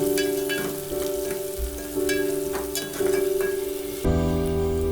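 Chopped onion fries in a pan for a mutton curry, a continuous close sizzle with scattered crackles over a steady background hum that shifts in pitch near the end, with no talking.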